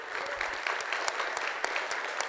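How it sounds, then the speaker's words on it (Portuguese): A crowd at Sesc 24 de Maio applauds hip hop artist MV Bill, a dense, even wash of many hands clapping at once, moderately loud and unbroken for a couple of seconds. "Uma salva de palmas para ele, por favor."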